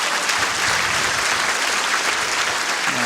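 An indoor bowls crowd at the World Indoor Bowls Championship applauds and cheers a delivery toward the jack, a loud, sustained wash of clapping from a large audience.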